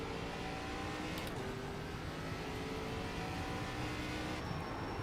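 An ARCA stock car accelerating at North Wilkesboro in the iRacing sim gives off a constant, dense engine roar with a slight rising pitch, steady from start to finish, and nobody speaks.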